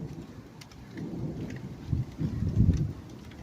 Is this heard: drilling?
no